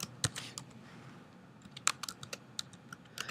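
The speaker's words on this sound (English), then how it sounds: "if I can type correctly here" Computer keyboard typing while entering figures into a spreadsheet, a few scattered clicks then a short quick burst of keystrokes, close and fairly soft, with no talk.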